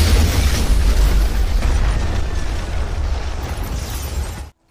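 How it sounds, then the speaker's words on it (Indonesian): A film explosion erupts as gas leaking from a stove in an apartment is ignited by a lit cigarette: a loud, deep boom and roaring blast that fades over about four seconds, then cuts off. "ledakan pun tak terhindarkan"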